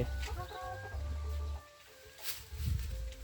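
Egg-laying hens cluck in short, close bursts with a few bird calls, rising again near the end after a brief quieter stretch.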